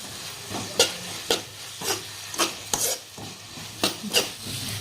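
A spoon stirs veg fried rice with vinegar in a hot pan, giving a run of sharp scraping strokes in an uneven rhythm over a soft background sizzle.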